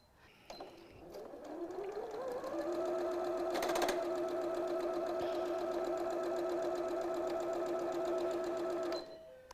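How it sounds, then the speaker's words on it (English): Sewing machine stitching a quilt binding strip on a diagonal line at short stitch length, a steady close motor hum that ramps up and runs evenly for about seven seconds before stopping. "let's just bring this over to the machine and sew it"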